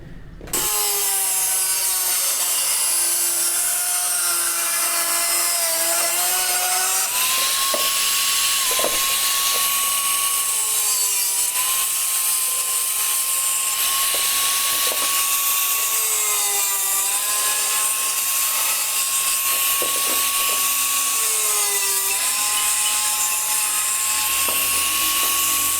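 A 110mm plastic pipe being cut with a whining power tool, a steady high-pitched drone that dips in pitch several times as the blade bites, loud and close with no talk.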